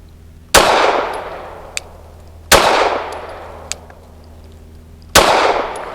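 A Kimber R7 Mako Carbon Compact pistol fires PPU 147 grain jacketed hollow points in three loud, sharp shots about two and a half seconds apart, each trailing off in a ringing decay, with faint metallic clicks between them.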